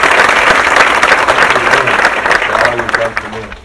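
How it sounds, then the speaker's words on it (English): An audience at a Martin Luther King Day talk at Redstone Arsenal applauds the choir, loud and dense at first, then thinning out as a few voices murmur underneath. "Can we give them a round of applause?"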